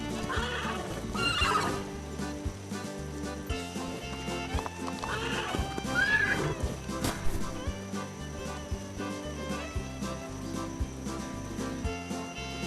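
Horses neighing and whinnying over steady galloping hoofbeats in the Roblox Wild West game, with repeated whinnies rising above a continuous clip-clop rhythm and game music, no talking.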